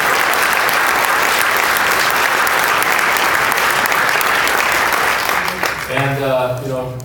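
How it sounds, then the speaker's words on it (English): Dense audience applause for the staff at the World Seed Summit fills the room steadily, then thins near the end as a voice begins talking over the last claps. "So how about we give a round of applause to all the"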